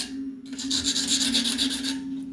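Sandpaper rasps steadily against rusty, neglected stainless steel, a close, continuous gritty scraping with a faint pulsing rhythm that runs for about two seconds after a brief pause.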